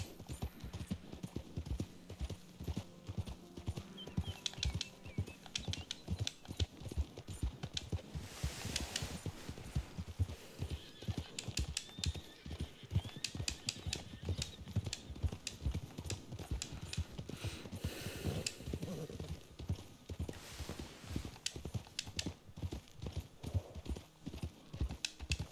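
A horse walks through the Red Dead Redemption 2 video game, hooves clip-clopping in a steady, close rhythm throughout, with brief bursts of louder rustle and what may be a short whinny around the middle.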